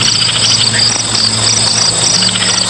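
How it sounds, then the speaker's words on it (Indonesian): Dense, steady chirping of crickets and other night insects fills the air at dusk in a village, a continuous high trill with no voices. "Sesekali terdengar bunyi jangkrik dan serangga malam lainnya."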